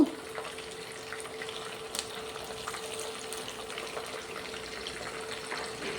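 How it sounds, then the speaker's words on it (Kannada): Okra sliced as ladies finger going into hot oil, a steady soft sizzle and crackle with scattered small pops, close by and fairly quiet, no talking heard. "ಈಗ ಎಣ್ಣೆ ಚೆನ್ನಾಗಿ ಬಿಸಿಯಾಗಿದೆ ಈಗ ಬೆಂಡೆಕಾಯಿ ನಾನು ಸ್ವಲ್ಪ ಸ್ವಲ್ಪನೇ ಹಾಕ್ತಾಯಿದ್ದೀನಿ"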